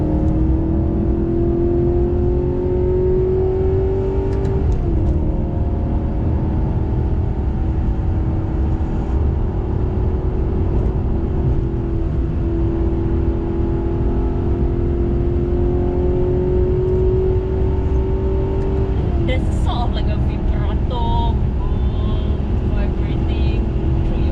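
A Maserati GranTurismo S engine drones loudly and steadily while driving, heard from inside the car, with the pitch climbing and then dropping at two gear changes.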